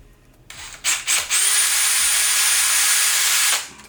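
A small power drill whirs up in a couple of short bursts while drilling a small hole in a Samsung dishwasher door, then runs steadily for about two seconds before spinning down, close and loud.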